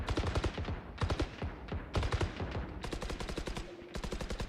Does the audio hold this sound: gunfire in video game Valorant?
yes